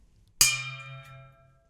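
A gong or bell struck hard once, giving a sharp metallic clang that blooms into a long humming ring and slowly fades out, close and alone.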